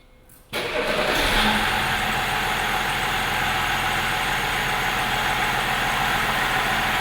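A car engine restarts abruptly after a brief quiet moment, then settles into a steady, loud, even idle that continues without pause.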